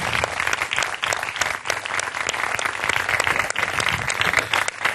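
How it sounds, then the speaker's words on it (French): A large church audience applauds and cheers continuously, a dense, steady wash of clapping with raised voices that stays loud throughout. "Est-ce qu'on peut acclamer mieux que ça?"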